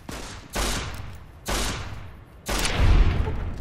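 Three loud revolver shots in Fallout: New Vegas, evenly spaced about a second apart, each a sharp blast with a booming tail that rings out before the next.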